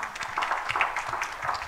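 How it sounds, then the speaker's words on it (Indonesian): Brief applause from a church congregation during an Indonesian sermon, a soft, steady patter of many hands at moderate distance with no talking over it. "Tepuk tangan untuk kebenaran ini."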